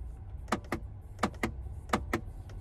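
The glove compartment button in a 2021 Land Rover Range Rover is pressed repeatedly, giving three pairs of sharp, close plastic clicks against a quiet cabin hum.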